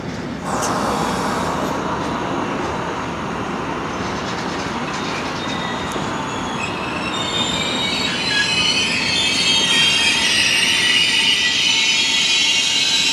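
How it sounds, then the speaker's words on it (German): A EuroCity Express train departs the station at Spiez, a continuous loud rumble of wheels on track, with high metallic wheel squeals that grow stronger as it rolls away. "zwischenzeitlich hat sich beim Eurocity Express was getan. Der fährt ab."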